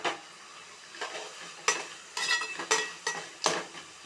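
Coriander and mint leaves sautéing in a pan for a broken-wheat samba rava biryani, heard as soft intermittent sizzling with several distinct stirring scrapes at irregular intervals, close and fairly quiet, with no talking.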